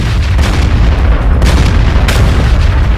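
Heavy artillery bombardment with a continuous deep rumble of booms, loud and dense throughout, with a couple of sharper blasts breaking through the roar.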